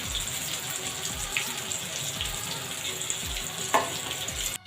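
Food frying in a pan in a home kitchen, a continuous close sizzle with faint utensil clatter and one brief sharp knock near the end.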